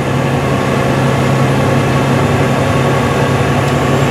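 Heavy truck or tractor with a non-synchronous transmission, engine held near 1,500 RPM through clutch-into-neutral and clutch-into-gear shifts; a loud, steady low diesel drone fills the whole stretch with little variation and no talk.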